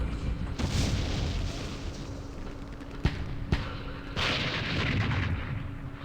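Heavy weapons artillery fire in the Vietnam war game Campaign Series Vietnam, set at Dien Bien Phu: deep booming blasts and rumble carrying across the whole stretch, with two sharp cracking impacts in the middle, no talk.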